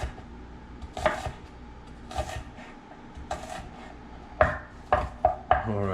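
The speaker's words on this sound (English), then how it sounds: "Let me just finish cutting this one too." Knife chopping onions on a cutting board during home cooking: a few scattered single cuts followed by a quick run of sharp chops near the end, close and fairly loud.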